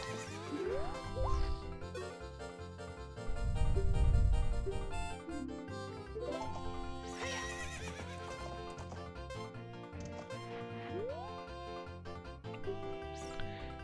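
A horse whinnies during riding in the Zelda Master Quest video game, with hoof clip-clops, set against loud, continuous game music that stays prominent throughout.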